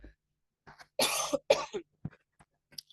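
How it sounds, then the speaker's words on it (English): A person coughs several times up close, in short harsh bursts with a bit of throat clearing and quiet gaps between. "Sorry about the coughing."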